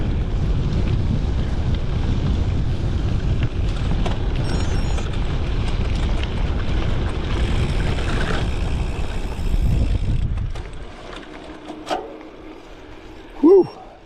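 Strong headwind buffeting a cyclist's microphone during a hilly 200K road ride, a loud rumbling roar for about ten seconds that then drops away, followed by a couple of short vocal sounds near the end.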